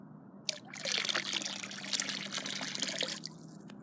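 Half a liter of hot water from a 12-volt battery-powered heater pours into a small pool in a continuous close splashing stream that lasts about three seconds, then stops.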